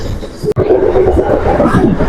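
The Sealdah MEMU Express, train 13180 on the Durgapur to Sealdah run, rolls steadily through a junction. A loud, continuous rumble of wheels and carriages fills the space, with one brief sharp dip partway through.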